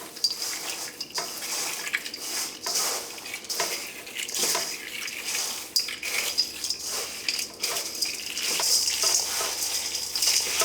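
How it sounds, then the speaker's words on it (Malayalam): Spices being mixed into a Kerala spicy mixture in a bowl, giving a steady run of light rattling, scraping and clinking with repeated short bursts, close and fairly quiet, no voices. "ഇതെല്ലാം കൂടിയിട്ട് നന്നായിട്ടൊന്ന് മിക്സ് ചെയ്യാം."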